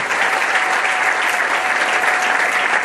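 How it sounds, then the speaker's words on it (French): A church convention audience claps loudly and continuously, dense applause from many hands filling the room throughout without pause. "Est-ce que vous pouvez applaudir pour vous-même?"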